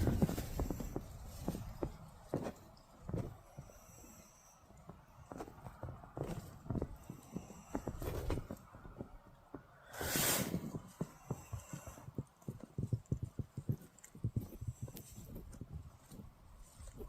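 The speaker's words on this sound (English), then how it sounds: "Sounds like something's outside. They're walking about." Soft, irregular footsteps shuffle and thud close by outside a tent at night against a rustling, windy background, with a brief louder gust midway.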